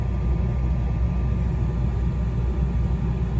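A 2012 Suzuki SX4 engine idling with a failing alternator, heard as a steady low rumble with an even drone and no talk.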